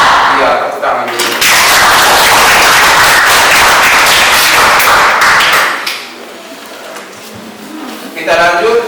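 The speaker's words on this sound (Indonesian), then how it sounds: "Iya, tepuk tangan dulu." Students clapping in a classroom, a loud, close burst of many hands that fills most of the stretch, then drops away to quieter room sound with a voice speaking near the end.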